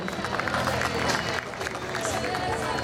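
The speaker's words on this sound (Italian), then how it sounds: "facciamogli un grande applauso" An audience at a Sardinian guitar-song memorial evening in Sindia claps steadily as performers are introduced, a thick, continuous patter of hands mixed with crowd murmur and a voice talking over it.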